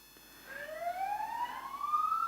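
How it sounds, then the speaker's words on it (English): A mountain rescue vehicle's siren under test rises in a slow, steady upward sweep, heard at a distance and fairly faint over a quiet background. "I think they're testing the sirens on the mountain rescue vehicle"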